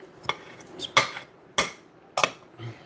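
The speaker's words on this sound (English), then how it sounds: "I'm going to finish the last stir, and then I'll get this in the oven." Stir fry vegetables being stirred in a pan, heard as a handful of sharp metallic clanks and scrapes of a utensil against the pan, spaced unevenly and close up, with no talking.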